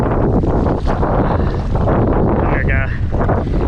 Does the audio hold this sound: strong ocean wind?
yes